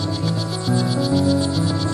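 Strawberry poison dart frogs chirp on Bastimentos Island, Panama, in rapid pulsing trills that repeat over a dense chorus of insect-like calls, close and steady.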